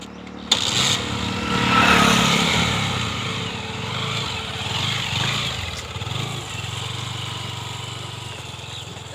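A motorcycle engine starts and revs up, then pulls away and fades into a steady, lower running drone.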